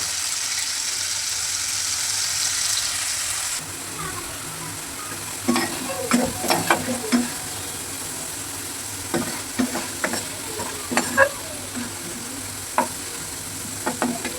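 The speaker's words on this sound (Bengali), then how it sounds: "এখন আমি আলুগুলোকে সুন্দর করে ভেজে নেব, একদম ব্রাউন কালার করে।" Potatoes frying in a pan until brown, a steady sizzle opening loudly, then quieter frying broken by repeated spatula stirs and scrapes against the pan.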